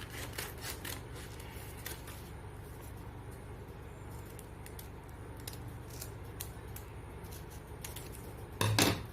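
Scissors cutting out fabric pieces for a flare skirt, a steady rasping snip under a constant background hum with a louder clatter near the end.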